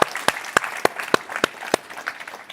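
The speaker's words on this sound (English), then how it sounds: "Let's all give Mel a round of applause." Applause at a business talk event, heard as a regular run of sharp, close claps, roughly one every third of a second, over a faint wash of audience clapping further back.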